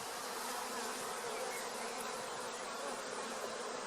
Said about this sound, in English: So you can see the worker bees there.